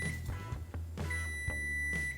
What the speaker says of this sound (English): And the timer's still going off.